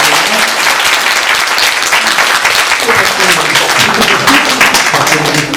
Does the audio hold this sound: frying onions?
no